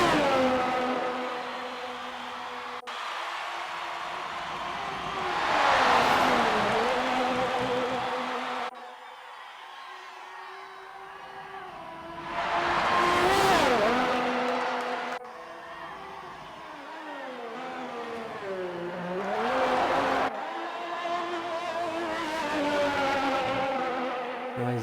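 Race car engines roar past repeatedly at an Australian race. Several loud passes rise and fall at intervals, with revving and engine whine between them. No speech is heard.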